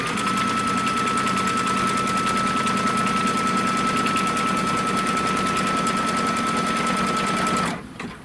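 A sewing machine stitches a quilt seam in one steady, fast, close mechanical chatter that runs without a break and cuts off abruptly near the end.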